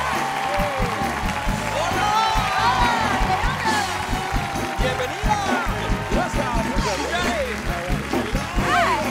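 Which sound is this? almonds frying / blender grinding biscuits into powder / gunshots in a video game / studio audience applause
studio audience applause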